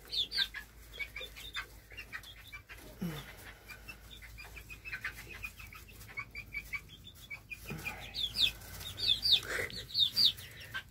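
Young farm chickens, moved to new quarters, cluck and peep in soft bursts that grow busier toward the end, close by, with a person speaking quietly between them.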